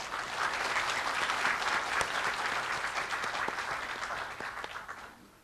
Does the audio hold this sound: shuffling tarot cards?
no